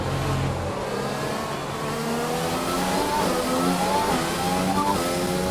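An F1 car engine in F1 2020 winds up through rising, high-pitched revs with quick gear shifts, loud and close, the pitch climbing in repeated sweeps with no voices.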